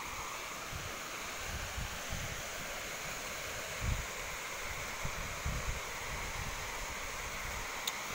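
A small waterfall in the dry season, flowing lightly, gives a steady, continuous wash of falling water with faint low rumbles, heard close and alone with no talk.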